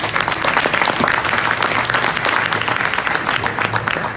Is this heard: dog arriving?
no